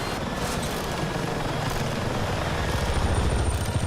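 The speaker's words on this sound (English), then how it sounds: "I have full control of the chopper." Helicopter flight in Battlefield 6, a steady loud rotor chop with dense engine roar, continuous and close throughout, building slightly toward the end.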